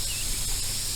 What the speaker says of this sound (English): Vous avez le petit spray pour ramasser des empreintes.